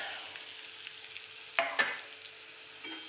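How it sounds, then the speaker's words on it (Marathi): Steamed rice being mixed into fried ground masala in a pan, a faint, steady sizzle with a couple of soft scraping strokes of the spoon partway through. "आता आपण भात त्याच्यात ॲड करून घेऊया"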